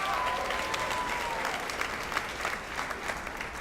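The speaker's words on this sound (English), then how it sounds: "please give a round of applause for finalist Avery Davis of Summit High School" Audience at a high school sports awards show applauding a volleyball finalist, a steady wash of clapping at moderate distance that holds for a few seconds.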